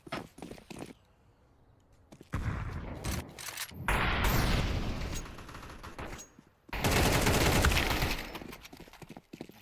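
Pistol gunfire in a Counter-Strike match, loud dense bursts of rapid shots in two long volleys with scattered single cracks between them, heard without talk.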